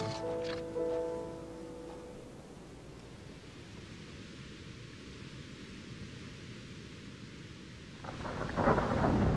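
Thunderstorm over the western prairies: a deep roll of thunder opens, fading into a long steady wash of rain-like noise before another loud rumble builds at the end.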